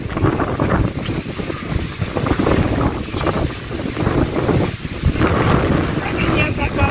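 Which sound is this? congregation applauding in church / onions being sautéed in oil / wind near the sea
wind near the sea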